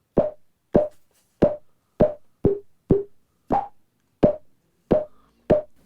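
A Microfreak synthesizer fires short, punchy pop sound effects, about ten sharp plops with quick decays, spaced at a steady, slightly uneven rhythm, close and dry with no talking.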